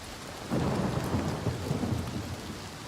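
Steady rain pours down as a deep thunder rumble swells in and rolls on in the video game The Elder Scrolls IV: Oblivion Remastered, loud and close, with no voices.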